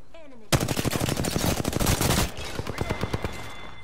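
Rapid automatic gunfire in the video game Apex Legends, a dense burst of loud close shots lasting nearly two seconds, followed by a few sparser distant shots.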